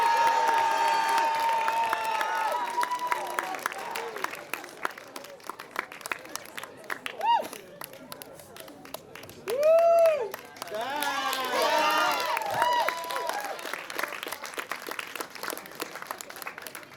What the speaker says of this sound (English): Another huge round of applause for this next world graduate team